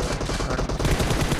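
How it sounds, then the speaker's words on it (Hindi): Dense bursts of automatic gunfire in a battle royale video game, rapid overlapping shots crackling loudly and continuously, with no talk over them. "बहुत तेज बहुत गोली चल रही है"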